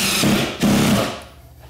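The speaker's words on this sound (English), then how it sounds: "I'm gonna throw a screw in the corner and attach it to the joist." A screw is driven through a soft subfloor down into a wooden joist, with two short, close whirring bursts, the second slightly longer, before the sound drops away.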